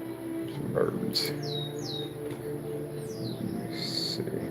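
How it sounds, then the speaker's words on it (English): Birds chirping in a projected video, several short high tweets and whistled calls at moderate distance, soft against a steady background hum. "Some birds."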